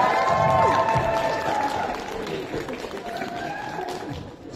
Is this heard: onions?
no